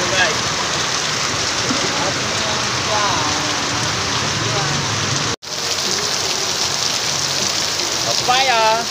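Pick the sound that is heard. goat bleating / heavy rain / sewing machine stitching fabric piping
heavy rain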